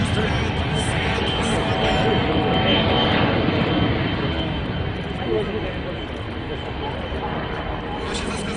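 Beriev amphibious aircraft, a firefighting plane, flying overhead with a loud, continuous engine roar that stays dense and close throughout while a voice talks over it.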